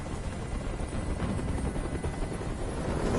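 A helicopter hovers in the Detroit: Become Human video game, its rotor wash a steady, loud, dense roar that holds unbroken throughout with no talk over it.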